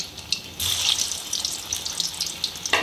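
Raw banana kofta balls dropped into hot oil set off a steady, close bubbling sizzle that rises sharply and holds throughout, with no talking.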